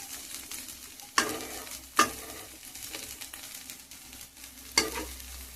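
Potatoes for aloo bhaja fry quietly in a pan, a faint continuous sizzle broken by three sharp metallic clanks of a spatula or plate, close and otherwise still, no voices.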